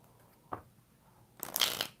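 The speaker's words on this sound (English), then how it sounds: "1 more shuffle." Tarot cards being shuffled in quiet surroundings during a live reading: a single faint riffle tap, a pause, then a fuller half-second burst of papery card shuffling close by.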